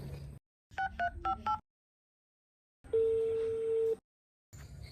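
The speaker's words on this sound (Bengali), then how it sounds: "একটা ফোন দি ফোন দিয়ে দেই" Telephone keypad tones beep in a quick series of four, followed by a longer steady tone, with brief background room sound between.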